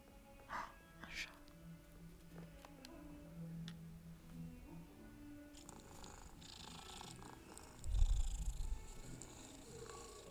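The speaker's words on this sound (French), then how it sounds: "Un chat." A cat in the video game Hogwarts Legacy purrs softly and low, rumbling quietly beneath faint background game ambience and scattered small clicks, with a brief louder thump near the end.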